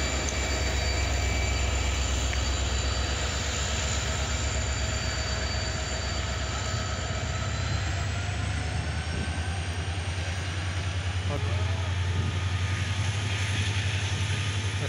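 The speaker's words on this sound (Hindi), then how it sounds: "ये है जलपाईगुड़ी, जलपाईगुड़ी उदयपुर सिटी एक्सप्रेस।" The Udaipur City–New Jalpaiguri Express rushes through a station at speed, producing a continuous loud roar and rumble of wheels and carriages that stays steady from start to finish with no talking.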